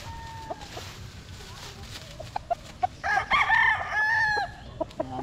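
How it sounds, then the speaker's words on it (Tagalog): Roosters crow at a small gamefowl farm, one clear drawn-out cock-a-doodle-doo at mid distance, with scattered clucks and faint farmyard ambience around it. "isa sa mga manok natin dito sa ating munting manukan."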